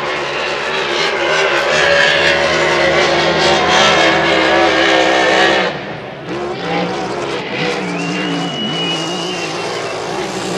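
A hydroplane racing boat's engine roars loud and close at full throttle during Valleyfield Grand Prix time trials, then drops sharply and settles into a lower, more distant drone with a rising whine.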